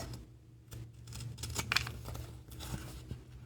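Scissors cut through a junk journal cover that has oily double-sided tape on it. The cutting is quiet and close, with soft crunching snips and scraping spread across the moment and no talking.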